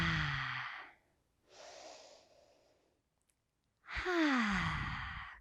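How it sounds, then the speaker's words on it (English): Two deep breaths during a yoga session, each a long, close inhale followed by a slow, audible sighing exhale, with near silence between them. "We're all going to take 2 deep breaths here."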